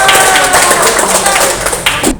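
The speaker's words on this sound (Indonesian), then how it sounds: "tepuk tangan untuk Tasya dan Bella" Classroom applause for two students, a brief burst of scattered hand claps close by, mixed with voices and chatter.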